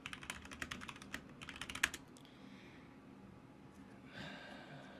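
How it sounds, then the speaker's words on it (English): Rapid bursts of keystrokes on a computer keyboard, close and fairly quiet, clattering for about two seconds before stopping, followed by a soft breath or sigh and faint background hiss. "Let's see if this keyboard works."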